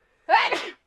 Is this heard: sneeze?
yes